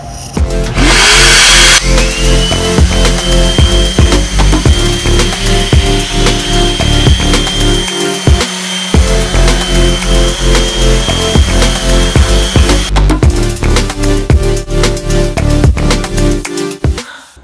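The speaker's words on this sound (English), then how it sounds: "hook up a shop vac or a dust extractor to your orbital sander" An orbital sander whines and buzzes loudly and continuously against a wooden cutting board, the droning motor holding steady over a long stretch with occasional brief pauses.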